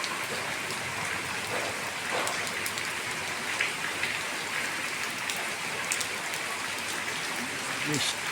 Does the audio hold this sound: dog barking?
no